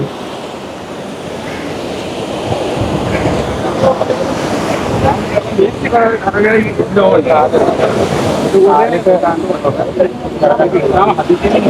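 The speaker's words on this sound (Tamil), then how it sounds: "இப்போ இந்த கடல் வந்து இவ்வளவு தூரத்துக்கு இங்கே வருது" Sea waves wash onto a shore where the water has come far up the land, a near, continuous surf with wind buffeting the microphone. Someone talks over the sound throughout.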